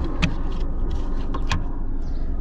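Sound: car engine running after battery connector removed

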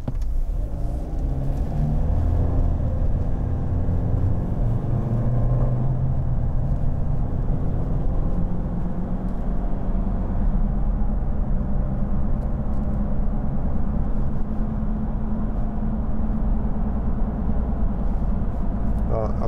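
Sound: 2015 Nissan Navara driving with near side wheel bearing noise

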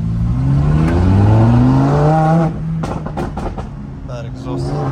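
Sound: car engine revving through its exhaust

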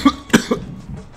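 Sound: cough

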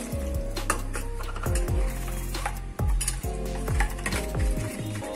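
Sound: stirring ginger curry mix of spice powder, ginger, water

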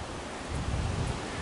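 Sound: flowing creek water

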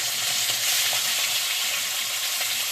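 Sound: small shrimp frying in oil with cumin

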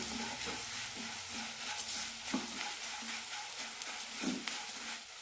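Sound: sautéing roasted rava in a pan

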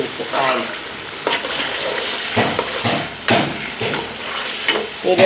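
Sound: sautéing shol fish in a pan

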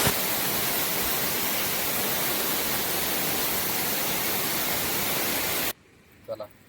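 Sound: waterfall at Asniye village

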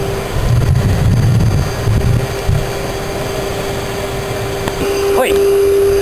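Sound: forced-air blower on a garden waste furnace

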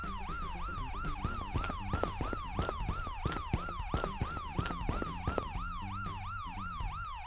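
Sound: siren in the video game New Life life simulation

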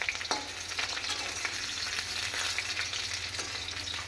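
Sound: potatoes frying in a pan

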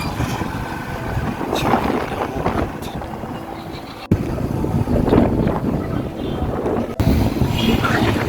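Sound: afternoon wind while riding a motorbike

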